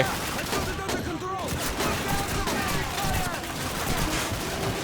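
Dense gunfire from the Call of Duty 2 video game keeps up a constant crackle of rapid shots throughout. Faint talk sits underneath the shooting.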